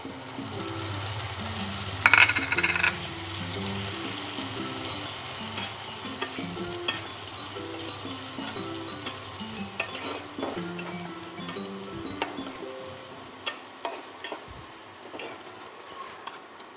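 Spice paste dropped into fried onions in a hot pan for Bengali rui fish kalia, giving a loud steady sizzle with stirring scrapes and a brief louder burst near the start, easing to crackling frying.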